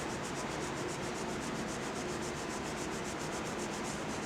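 Continuous rhythmic scrubbing as clay slip is rubbed off a drying pottery plate, a close, even abrasive rasp repeating quickly with no talking.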